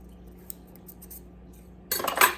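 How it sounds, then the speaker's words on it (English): Scissors are picked up and handled during sewing of a toddler blanket, giving a short burst of metallic clinking and rattling near the end after a quiet stretch. "Gotta get some scissors."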